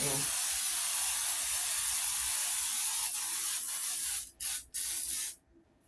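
A can of Baker's Joy baking spray coats cake pans for tea cakes: one long, continuous close hiss, then two quick short bursts before it stops.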